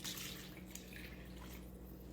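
Unsweetened almond milk pours and splashes steadily from a carton into a bowl while making oat bars, a continuous close liquid hiss and patter with no talking.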